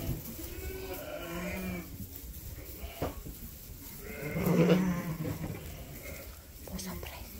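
Sheep and a lamb bleat repeatedly at a mountain sheepfold, close and loud at times, mixed with people talking and occasional clatter in the background.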